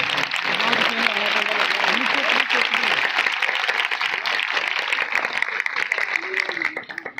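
A church congregation applauds loudly, sustained and dense clapping that carries with voices and cheers woven through it before tapering off at the end.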